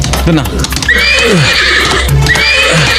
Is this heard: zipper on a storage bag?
no